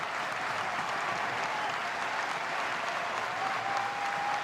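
Crowd in Louisville at an NCAA Baseball Championship Super Regional game against Miami rises to its feet, giving steady, sustained applause and crowd roar that fill the whole stretch at a moderate distance.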